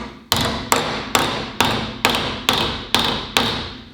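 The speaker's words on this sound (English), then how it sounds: "The edge of the hammer is right on it as I hit" Eight sharp metallic hammer blows forming sheet metal over a plywood form land at a steady, even pace, each ringing briefly before the next, close and loud with no voices.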